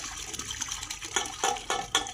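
Watermelon milkshake poured outdoors in a village kitchen, a liquid gush with several splashy surges and glugs in quick succession, fairly close.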